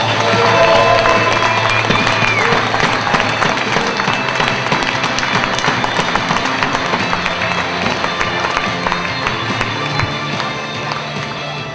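Sustained audience applause with scattered cheers for a slam poetry performer at a poetry slam competition, loud and continuous, dense clapping throughout, slowly tapering toward the end.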